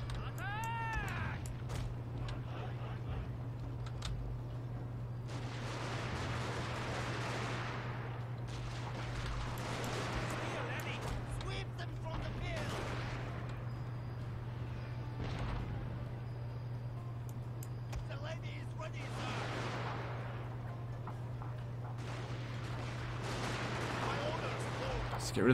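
Gunfire and artillery from a Shogun 2: Fall of the Samurai battle rumble in repeated distant bursts and booms over a steady low hum, with people talking throughout.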